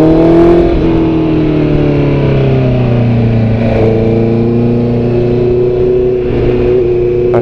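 On a mountain road in the Alpujarra of Granada, a car engine strains uphill, loud and close, its revs holding high and sliding slightly downward through a gear as the motor labours without any talk.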